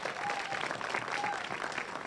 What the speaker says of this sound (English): Let's give our parents a round of applause so that they can hear that we value what they do.